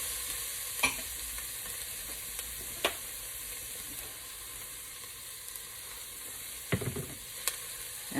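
Garlic and miso fry in a pan, giving a steady close sizzle punctuated by sharp scrapes and taps of a utensil stirring the mixture.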